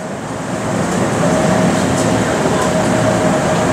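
A train pulls out of a station: a steady rumble and rising rolling noise from the carriage interior, with a faint tonal whine, continuous and fairly loud.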